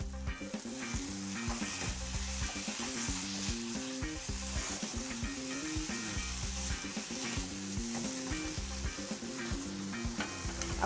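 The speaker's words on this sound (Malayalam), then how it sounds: "ആ ക്യാപ്സിക്കം അരിഞ്ഞതിടുന്നു." Chopped capsicum fries in a pan for a prawn roast with masala, giving a steady, close sizzle with rhythmic scraping and stirring strokes throughout, and no talking.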